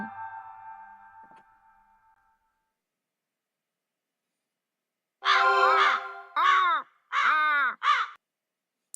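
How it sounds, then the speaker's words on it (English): A crow caws four times in quick harsh bursts after a fading tone and a long silence, close and loud, from the mystery game Root Letter. "I woke up to the cawing of a crow."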